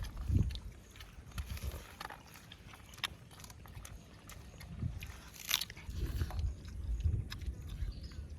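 Someone eats a meal of egg curry, with soft intermittent bites, crunches and chewing sounds up close at a low level, irregular and spaced out, with no talking.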